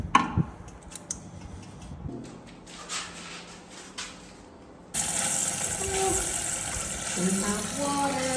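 Water running into a newly installed toilet in a bathroom, a sudden steady rushing and hissing flow that starts partway through after a few scattered clicks and handling noises, close and moderately loud.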